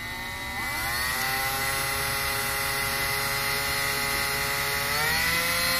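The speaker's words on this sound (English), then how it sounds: "Let's go nice and slow with the quarter inch bit now." A slow-speed drill with a dull quarter-inch bit, working on an Arrma Mega 4x4 differential input part, runs steadily for about six seconds, a harmonic motor whine that ramps up early and rises again near the end.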